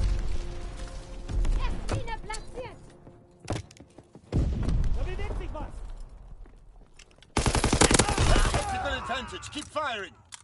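Gunfire in a firefight in The Crazy Sock Family: loud bursts of rapid automatic shots and single cracks, close and harsh, broken by short pauses, with voices shouting between volleys.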